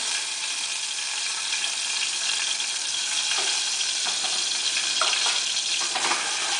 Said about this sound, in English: I want to fry it a little bit, get everything working, the onions and the garlics all in there